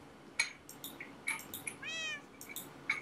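A cat in the video game Minecraft gives a series of short, thin meows, close and clear, with one longer drawn-out cry in the middle, and no talking.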